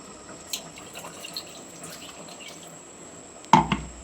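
Water splashes into a pan of cauliflower curry masala in one brief, close burst near the end, following a few seconds of quiet kitchen background with faint small clinks.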